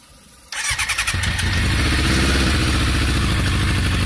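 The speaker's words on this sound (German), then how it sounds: "Wir haben das Motorrad endlich zum Laufen bekommen." Motorcycle being restored and run without a fuel tank: after a quiet half second the engine fires, sputters through a few uneven pulses, then settles into a loud, continuous running roar.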